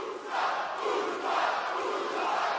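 A WWE SmackDown arena crowd cheers for Uso in a sustained, loud roar that swells in waves across the whole stretch, with no talk over it.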